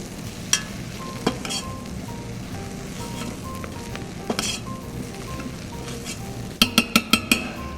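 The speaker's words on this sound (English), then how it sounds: "Let's get a little bit more oil in there just to help the mushrooms cook, saute" Mushrooms sauté in oil inside a pot for creek trout chowder, a steady close sizzle broken by a few sharp utensil clinks and a quick burst of metallic taps near the end.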